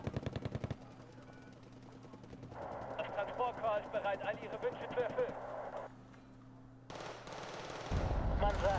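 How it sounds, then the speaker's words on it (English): Rapid bursts of gunfire and heavy booming blasts from a video game, dense and loud, with brief lulls between barrages. "And yeah, everything's exploding."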